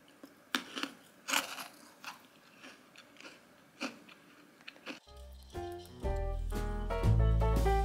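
Close, crisp crunching bites and chewing of crunchy chocolate balls come in irregular bursts, followed by a louder stretch of mixed background noise.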